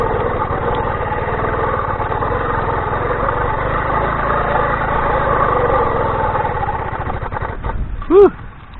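A homemade engine-powered bicycle's small motor runs loudly and steadily close by for most of the stretch, with a voice briefly heard near the end.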